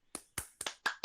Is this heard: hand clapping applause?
yes